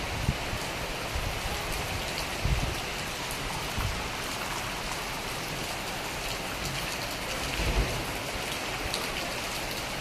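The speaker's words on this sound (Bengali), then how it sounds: "প্রচণ্ড বৃষ্টি" Heavy rain pours steadily in a storm with gusting wind, a dense, constant hiss of drops hitting surfaces that holds at one level for the whole stretch, with a few slightly louder gusts and no voices.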